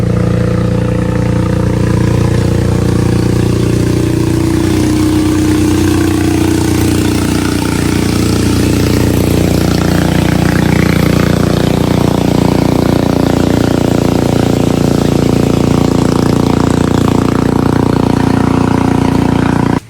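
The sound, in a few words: motorized boat engine passing on a river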